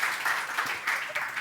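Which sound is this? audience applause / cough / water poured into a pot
audience applause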